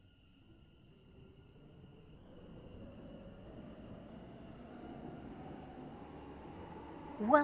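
A train from the Stepford County Railway game runs steadily, its low rumble building gradually and staying fairly close, ending in a brief bright squeal or clank.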